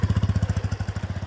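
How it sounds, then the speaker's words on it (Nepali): A motorbike engine close by, rapid regular pulsing putter at steady loudness, consistent with a bike coming alongside on a roadside path where cyclists also ride; no talking. "साइडमा बाइक आयो"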